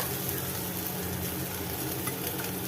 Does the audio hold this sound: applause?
no